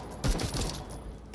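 Gunfire from a rusty gun in the video game Deathloop, a short rapid burst of rattling shots for about a second, alone.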